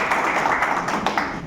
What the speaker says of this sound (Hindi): एक बार उनका भी जोरदार ताली से स्वागत करेंगे।